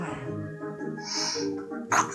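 A young boy lets out a sharp sneeze at the end of a stretch of faint breathy sounds and soft background voices, heard close by in a home.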